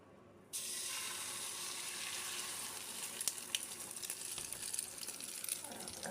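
Omelette mixture hitting a very hot oiled pan, a sudden loud sizzle that starts abruptly and keeps frying steadily and close, with faint scraping and crackles on top.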